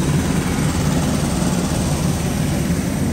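Loud, steady airliner engine drone fills the cabin on board a flight, a constant low roar with a high whine above it and no voices.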